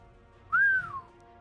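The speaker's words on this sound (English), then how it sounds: "gave a low whistle" A single close, low whistle, rising briefly and then sliding down in pitch over about half a second against a quiet background.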